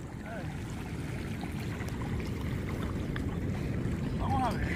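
Rough, high sea waves wash and rush steadily around a small fishing boat, a constant loud churning with faint birdlike squeaks now and then and no clear talking.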